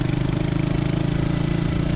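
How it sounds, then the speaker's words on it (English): Honda Super Cub motorcycle with an aftermarket exhaust louder than stock, running while pulling a trailer, makes a steady, loud, close engine putter with an even rapid pulse. "exhaust is definitely noisy. Noisier than the factory"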